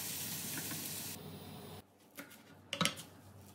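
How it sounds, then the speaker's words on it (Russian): Chopped onion frying in vegetable oil in a pan on a gas stove, a bright steady sizzle that cuts out, followed by a few scraping stirs and clinks against the pan. "Весь нарезанный лук перекладываю в сковородку и ставлю на газовую плиту."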